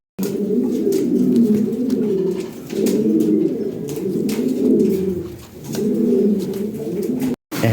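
Pigeons coo in three long, close, throaty runs separated by short pauses. The sound is loud and steady, with light rustling underneath.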